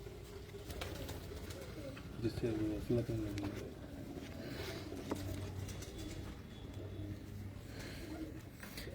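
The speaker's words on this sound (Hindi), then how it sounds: "ये कबूतर जीरे कबूतर जो लोगों को पसंद आते हैं वो भी देखें।" Several pigeons of prized Kasuri breed coo softly in a loft, low rounded calls repeating through the clip beneath someone talking over them.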